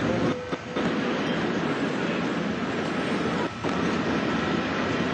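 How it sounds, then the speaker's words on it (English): Steady, loud rushing roar of a TGV V150 high-speed train slowing down on rails after its traction motors are cut, with a couple of brief dips in the noise. "It's now time to cut the power to the traction motors and the train will slow down gradually."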